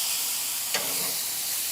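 Small pieces of meat searing over high heat on a Chud charcoal grill, a steady broad hiss and sizzle holding at an even level with one brief sharper crackle.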